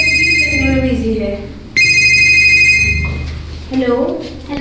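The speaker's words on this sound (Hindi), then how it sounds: "फोन आ रहा था" A phone ringtone chimes loudly in two repeated bursts of bright melodic tones, with a voice speaking over and between the rings.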